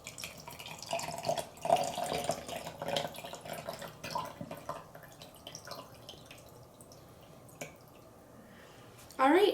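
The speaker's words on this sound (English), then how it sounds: "I'm going to fill it up full of water, to the fill line at least" Water runs from a tap into the tank of a PICTEK portable garment steamer, a steady faint trickle with drips that swells louder near the end, beneath background noise.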